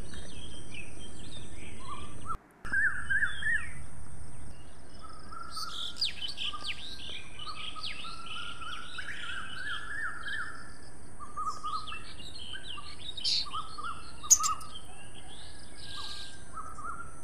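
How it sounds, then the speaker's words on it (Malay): Birds chirping and calling in the morning, scattered tweets from several birds at varying distances over a quiet, faint background hum. "kedengaran kicauan pertama yang memecah hening pagi"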